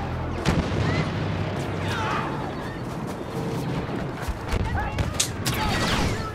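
Blaster gunfire in Star Wars Battlefront crackles in rapid bursts amid explosions and battle noise, loud and dense throughout, with a voice talking over it.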